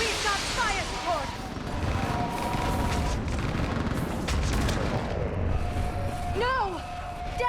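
Mass Effect 3 battle with fire support: dense gunfire and booming explosions over a loud continuous roar of combat, with sweeping whines of incoming fire and voices shouting amid the chaos.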